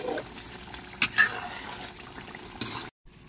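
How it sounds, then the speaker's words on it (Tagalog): Banana pieces fry in rendered coconut oil as latik curds form, with a steady soft sizzle and bubbling. A few sharp scrapes and knocks come as the pan is stirred, up close. "So habang lumalabas yung mantika nito, naluluto naman yung ating saging."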